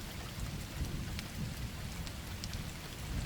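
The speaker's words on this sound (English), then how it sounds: "The rain pounded on the windows of my studio with unusual force" A rain and thunderstorm effect gives dense, steady rainfall hissing and pattering on a surface, with low rumbling beneath it. The sound is fairly faint and even, with no voices.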